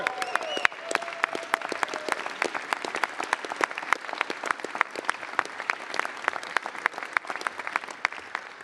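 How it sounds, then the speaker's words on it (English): Dense, steady applause fills the U.S. House chamber as a large audience claps for several seconds, the sound continuous and fairly close, with a faint voice briefly at the start. "You got to hold your applause."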